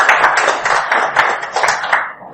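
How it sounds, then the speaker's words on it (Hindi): A seminar audience gives a hearty round of applause, dense steady clapping with sharp individual claps standing out, continuing evenly before tapering off at the end. "एक जोरदार ताली।"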